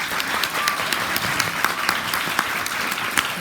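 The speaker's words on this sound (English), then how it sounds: "Let's give these folks a round of applause." An audience at a bookstore author talk in New York City claps steadily, dense and close, with no voice over it.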